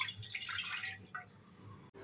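Two glasses of water are poured into a pressure cooker on a gas stove for steaming idlis. A faint splashing pour runs for about a second, then trickles and drips softly, with no voices.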